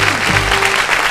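A studio audience on a Turkish quiz show claps in a brief, steady burst of loud, close applause with no voices over it.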